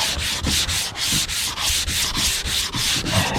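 A sanding block works across a car body panel on a Cobra Daytona build, with rhythmic back-and-forth rasping strokes, about a dozen evenly spaced passes close to the mic, and no talking.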